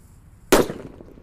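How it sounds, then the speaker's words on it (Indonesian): A gorila firecracker goes off inside a bucket with a single sharp, loud bang that rings briefly in the bucket before fading, after a near-silent lead-in. "Kita nyalakan di dalam ember ini."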